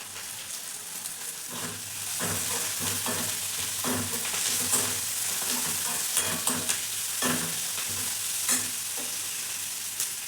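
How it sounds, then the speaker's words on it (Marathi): A spice tempering of oil with turmeric, cumin powder and coriander sizzles in a pan, starting quiet and then crackling louder and steadily, broken by repeated stirring clinks and scrapes, with no voices. "आपली फोडणी तयार आहे आपण आता बॅटरमध्ये फोडणी टाकूया"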